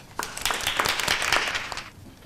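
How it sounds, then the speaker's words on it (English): Audience at a breast cancer awareness lunch-and-learn bursts into close, lively applause that swells quickly, holds as a dense wash of clapping for nearly two seconds, then drops away. "Please greet her with a round of applause as she shares with us her survivor story"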